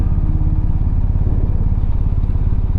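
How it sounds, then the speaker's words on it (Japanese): Motorcycle engine idling close by with a steady low throbbing pulse, dropping into gear and rolling away slowly, with no voices. "信号変わりそうなのでギアを入れて発進します。"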